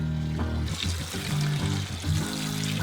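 A child splashes and plays with water in a backyard pool, giving a steady close trickling and pouring sound with light splashes and no talking.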